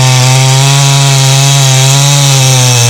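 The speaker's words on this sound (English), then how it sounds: "On today's video, you're going to see ported echo chainsaws" A ported Echo chainsaw cutting wood, a loud, steady high-revving whine with strong harmonics that holds at full throttle throughout, close by and alone.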